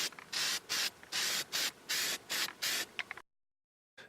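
Bursts of aerosol spray paint, aluminum colour, applied to a welded galvanized steel truss for a solar panel rack: about nine short hissing sprays in steady rhythm, close and loud, then silence with one brief final burst.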